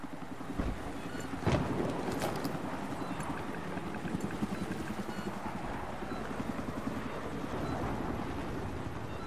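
A hostile helicopter in a military shooter video game flies near with a continuous rumbling rotor thrum, a heavy thump early on and steady chopping throughout, no speech.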